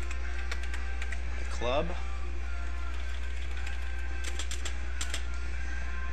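Computer keyboard typing, scattered light key clicks in small clusters, fairly faint over a steady low hum, with a brief spoken phrase in between.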